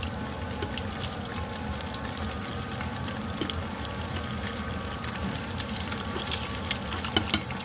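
Thai pork fish-cake patties (tod man moo) deep-fry in hot oil with a steady, dense sizzle throughout. A few sharper pops come near the end, and no one speaks.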